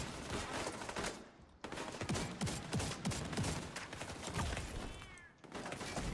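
Sustained gunfire from The Division 2, a steady stream of shots that carries through the whole stretch at moderate loudness, broken by two brief gaps, with no talking.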